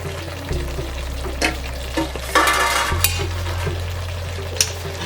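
Vegetable fried rice with freshly cut mint and coriander is stirred in a hot pan, a close scraping and tossing over a steady low sizzle, with a few sharper clinks of utensil on metal.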